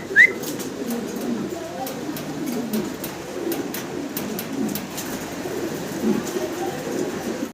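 Fancy Mundian pigeons coo repeatedly in low, soft, rhythmic calls close by, with faint background chatter and occasional clicks.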